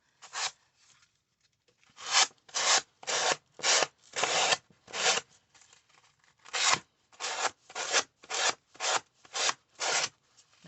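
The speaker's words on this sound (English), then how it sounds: "I'm going to use this sanding block, and I'm just going to sand those all off." A sanding block rubbed along the edges of paper tags, loud close scraping strokes in quick bursts, a few slow passes and then a rapid, even run of about a dozen strokes.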